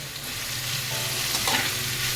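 Mushrooms and vegetables fry in a hot pan for chilli mushroom, a close, even sizzle with a soft stir and clink as the pieces are turned.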